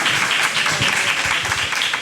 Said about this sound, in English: I would also ask if you could hold off on the applause till the end